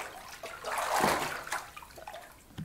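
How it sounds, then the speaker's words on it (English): A toilet flush from the Backrooms Morphs video game swells into a brief rushing whoosh of water, then fades into quieter trickling sounds. "Why did it sound like I was being flushed?"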